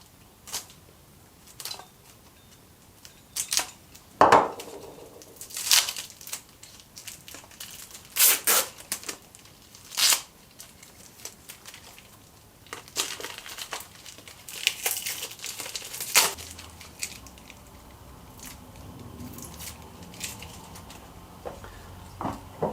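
A plastic wrapper around a piece of tool steel is cut open and pulled away in a workshop, giving close, irregular crinkling and crunching bursts with sharp snaps and quiet gaps between them.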